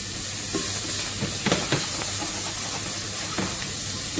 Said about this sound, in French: on va venir faire suer nos échalotes